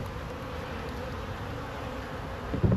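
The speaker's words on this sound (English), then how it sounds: "I think that's a case of some spilt syrup and some robbing bees" A dense, steady buzz of honey bees crowding and robbing spilt syrup on the side of a hive, droning continuously at close range, with a brief louder bump near the end.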